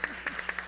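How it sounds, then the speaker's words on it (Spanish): A handful of steady, evenly spaced hand claps from an audience at a formal event with a senator in Mexico, brief and moderately close, over a faint background hum. "yo también les pido un aplauso para ella"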